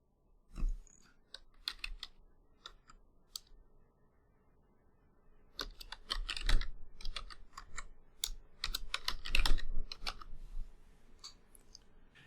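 Keys clatter on a computer keyboard in uneven bursts of quick clicks, with a pause near the middle before a denser run of typing resumes, close and fairly quiet.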